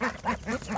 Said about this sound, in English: When I get close to these chicks and ducks,